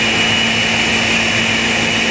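A kitchen blender running at full power mixing a blue milk drink made with whole milk, a loud, steady motor whine that holds throughout without pauses, up close and alone.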